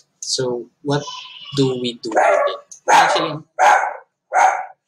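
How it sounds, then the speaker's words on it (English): A dog barks in a series of about five sharp, loud barks, following a few words of close speech from a man at the start. "That's my dog."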